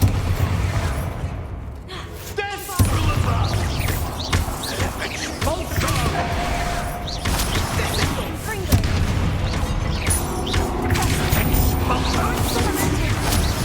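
Spell blasts from the Hogwarts Legacy game burst out in a busy combat scene, with a sharp hit near three seconds and another near nine, among whooshes and rumbling, with speech present at times.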